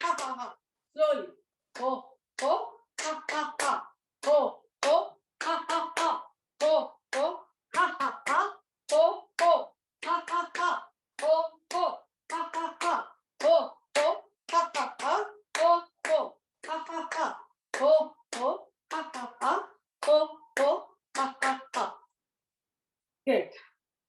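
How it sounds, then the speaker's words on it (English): Group laughter-yoga clapping in a yoga class, brisk regular claps paired with loud chanted syllables that run on for about twenty seconds before a brief pause near the end. "Keep on clapping."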